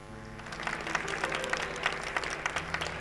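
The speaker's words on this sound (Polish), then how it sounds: "Wielkie brawa!" An audience applauds at a violin performance event, a dense, lively burst of clapping that swells and holds steady, close and fairly loud.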